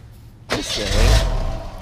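A 1989 Ford Mustang GT that has sat for years on old varnished fuel, heard up close as the engine cranks with a loud burst and rough rising grind, struggling to catch.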